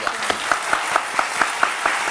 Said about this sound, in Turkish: bir alkış verelim Berat Hanım'a.